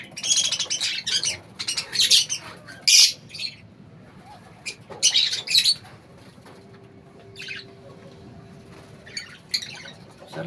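Pet lovebirds let out sharp bursts of chirps and harsh squawks close by, loud calls clustered at the start then sparser, with quieter gaps and a faint hum between them.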